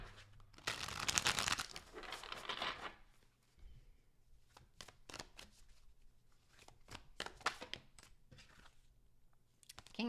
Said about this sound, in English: Last shuffle for Sagittarius for this week,